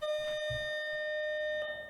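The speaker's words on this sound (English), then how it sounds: "Okay, that's just a bell. I thought it was an alarm." A school bell in Doki Doki: Exit Music Redux rings as a steady, bright sustained tone throughout, with a brief muffled thump underneath.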